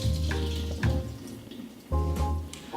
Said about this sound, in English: pull the matzah out in clumps and squeeze a little bit of the water out over the sink